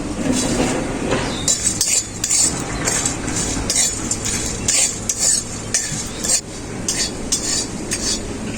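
Whole spices are dry-roasted in an empty kadai: bay leaves, dried red chillies, cumin, coriander seeds, black peppercorns and radhuni. A spoon scrapes and clinks against the pan in an irregular rhythm over a low background rustle, with no talk.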